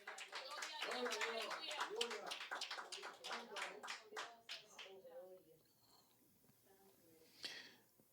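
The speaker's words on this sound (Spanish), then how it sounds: "Dale un aplauso al Padre, al Hijo y al Espíritu Santo." A church congregation claps along in a steady rhythm while a voice keeps speaking over it, and the applause fades out after about five seconds, leaving quieter background sounds.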